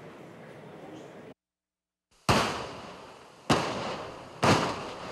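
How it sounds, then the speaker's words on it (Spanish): Controlled dynamite blasts clearing six huge rocks from a rain-damaged mountain road, heard as three sharp, loud explosive booms with decaying rumble, following a brief stretch of background noise and a moment of silence. "Con una detonación controlada en el kilómetro 83 de la vía Aloac-Santo Domingo, 6 enormes rocas fueron despejadas con dinamita"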